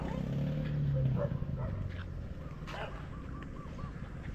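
Dogs at a rural Filipino property bark in short, sharp bursts close by, over steady outdoor background noise with a faint voice.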